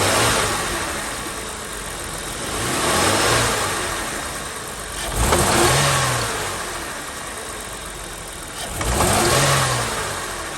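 A Holden GM 3.8 V6 with a rough-acceleration fault is revved three times from idle, each rise lumpy and hesitant before dropping back, close and loud with no talk.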